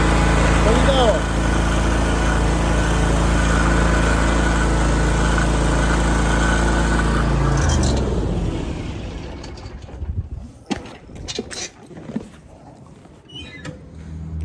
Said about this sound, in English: the lawnmower got it pulled most of the way up in there